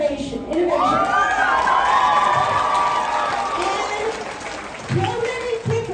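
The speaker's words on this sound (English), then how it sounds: "Let's give them a big round of applause." A crowd at a school robotics state competition awards ceremony applauds and cheers loudly, with children shouting and whooping over sustained clapping that fades slightly before a fresh burst.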